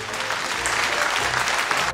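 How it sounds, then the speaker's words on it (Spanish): A burst of crowd applause used as a sound effect after a card magic trick, thick, even clapping from many hands sustained throughout, fairly loud with no voices. "nos preparamos para recibir nuestro aplauso"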